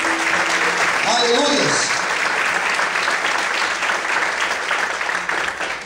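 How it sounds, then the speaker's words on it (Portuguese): A church congregation applauds steadily and loudly throughout, with voices calling out praise over the clapping near the start. "Você pode aplaudir o Senhor com muita alegria."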